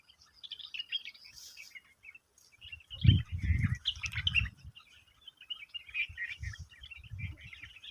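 Several birds chirp and tweet continuously in a jungle, with faint calls in the background, quiet overall with a few low rustling thumps midway.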